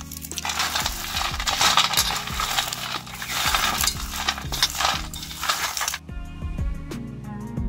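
Dry roasted peanuts rubbed together by hand to loosen their skins, making a steady, close, rattling and rustling crunch that runs continuously, with a clinking pattern toward the end, and no voices.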